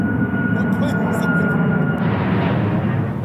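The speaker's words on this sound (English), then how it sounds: "That plane did. It's so low. What plane is that?" A low-flying Southwest airliner passes overhead with a loud, steady jet roar that fills the whole clip.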